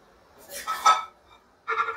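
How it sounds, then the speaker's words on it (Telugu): Fried vegetables are tipped into a cooking pot with two short clinks and scrapes of metal, a louder clatter followed by a brief second one, heard close up in a quiet kitchen. "ఈ వెజిటబుల్స్ అన్ని ఇందులో వేసేద్దాం."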